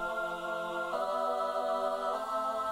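Synth melody processed with FL Studio's built-in chorus effect, a steady harmonic tone with stacked sustained partials that shifts pitch twice, playing alone without voices.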